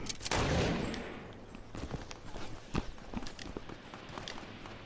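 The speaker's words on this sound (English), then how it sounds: "Who's shooting?" Gunfire in the Fortnite video game: a burst of shots opens the clip, followed by scattered faint cracks and footsteps, fairly quiet throughout.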